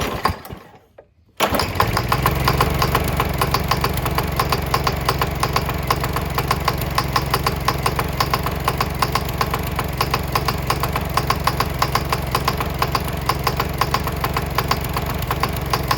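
A gas lawn mower engine fitted with a spark plug, converted to run on diesel with non-fouler spacers, starts after a brief silence and runs steadily and loudly with a rough, knocking idle for the rest of the clip, no talking.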